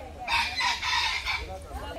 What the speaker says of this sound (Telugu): అడవి కోళ్ళు ఇవి,